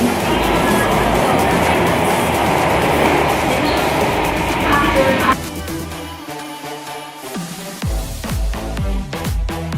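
Steady rumbling hum from inside a moving MRT metro car, loud and continuous, then shifting to clattering rattles and softer rolling noise as the ride continues.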